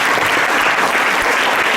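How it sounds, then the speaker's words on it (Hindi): Students at a motivational seminar give strong, sustained applause, a loud, even wash of clapping from a sizeable crowd that holds steady throughout. "सो अगेन मैं चाहूँगा कि जोरदार ताली हो जाए"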